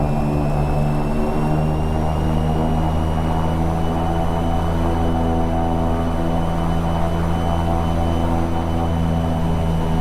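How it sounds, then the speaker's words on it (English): Twin piston engines of a 1982 Cessna 414A drone loudly and steadily during a run-up at 1700 RPM, a close, unbroken propeller hum with strong low harmonics and no talk. "Okay, run up, so mixture is going to go to rich, throttles 1700 RPM."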